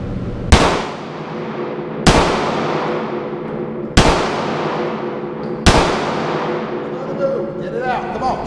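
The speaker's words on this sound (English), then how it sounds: "And a couple shots and move." Four handgun shots at a firearms training course, each a loud, sharp crack spaced about two seconds apart with a long ringing decay, close and clear, over a steady background.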